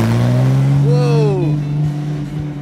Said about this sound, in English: Some sound off that. Ferrari California, 1961.